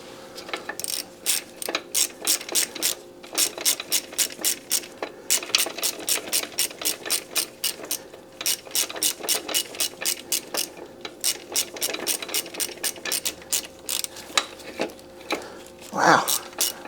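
Hand ratchet loosening bolts on the VVT filter of a Honda engine, rapid clicking bursts repeated over and over in quick strokes with brief pauses, close and crisp, with someone speaking briefly between strokes.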